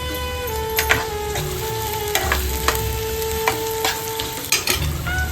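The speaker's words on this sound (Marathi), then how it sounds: "तेल गरम गरम झाल्या झाल्या लगेच कांदा करपवायला सुरुवात केली" Onion frying in hot oil in an outdoor cooking setting, a loud, steady sizzle with frequent stirring clinks and scrapes throughout, plus a faint high tonal hum in the background.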